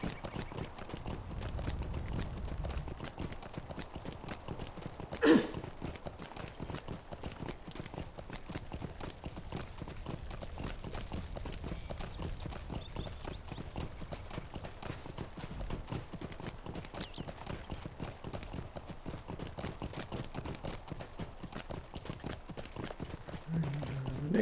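Horse hooves gallop in the Lord of the Rings Online game, a steady unbroken clip-clop rhythm running throughout at moderate level, with one brief louder knock partway through.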